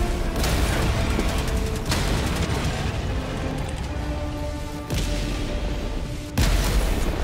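Heavy, sharp blasts go off during Helldivers 2 combat, a few loud booms spaced a second or more apart amid constant dense battle noise, with one final strong hit near the end.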